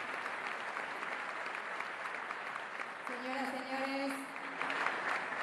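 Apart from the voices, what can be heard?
audience applauding the president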